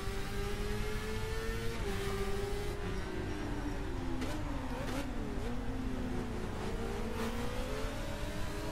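Motorcycle engine revving and accelerating hard on a city road, a loud droning whine rising and shifting in pitch, heard close from the rider's position over steady wind noise.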